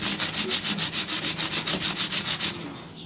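Quick, rhythmic back-and-forth scraping of a router's carbon brush against rough concrete, about fifteen even strokes, then it stops.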